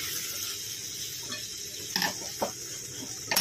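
A Bhogi bhaji vegetable curry topped with sesame seeds is stirred in a pan for Makar Sankranti. A soft sizzle runs underneath a few sharp spoon scrapes and clinks against the pan.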